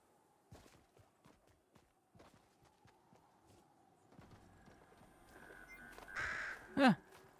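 A bird calls in the Fortnite video game, a cawing cry rising near the end after a stretch of soft scattered footstep-like thumps, the call brief and moderately loud against quiet game ambience.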